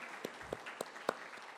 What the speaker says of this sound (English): A big round of applause to Saurabh.